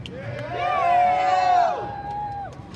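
An audience at a Kings Island Coasterstock guest speaker Q&A cheers and whoops, a crowd of voices swelling to a loud peak and then fading over a couple of seconds.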